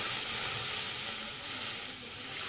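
Water splashes into a hot wok for a semolina sweet, giving a soft, steady sizzle and hiss that eases slightly midway.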